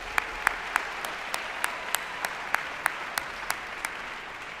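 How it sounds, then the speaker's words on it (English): Applause from an audience at a Martin Luther King Day celebration in Montgomery County, Maryland: a thin, steady run of fairly quiet claps with sharper individual hits coming at a regular rhythm, and no voices. "Let's give them another round of applause"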